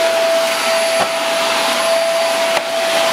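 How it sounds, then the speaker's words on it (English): An i woly cyclone vacuum cleaner runs steadily over carpet with its brush removed, a loud, continuous whine with a high tonal hum and a couple of brief dips as the head shifts. "you're supposed to have the brush out when you're vacuuming carpet"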